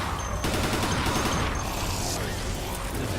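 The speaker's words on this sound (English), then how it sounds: "So you can see the assault rifle, not a lot of kick." An assault rifle fires in the Dead Effect 2 shooter, a loud continuous clatter of rapid shots with mechanical rattling, running the whole time with no pauses and no talk.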